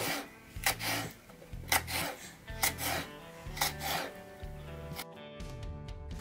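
Knife cutting vegetables into small pieces on a board, a quiet rhythmic series of rasping strokes at a steady pace, close up, with no talking.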